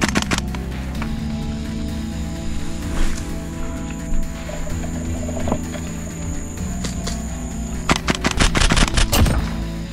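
SCAR airsoft gas gun fed from a 300-round drum magazine fires rapid bursts of sharp cracks during outdoor play, with scattered shots at first and a dense, loud burst near the end.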